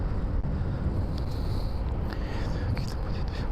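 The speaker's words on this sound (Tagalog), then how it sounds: "Mukhang biglang lumakas ang hangin, ah." Strong wind buffets the microphone on a mountain road, making a steady low rumbling roar with faint higher whistling tones drifting through it.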